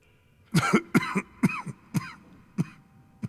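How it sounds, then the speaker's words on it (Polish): A run of sharp coughs, about eight, in short uneven bursts, close to the listener, with quiet gaps between them. "tu mamy ten kaszel."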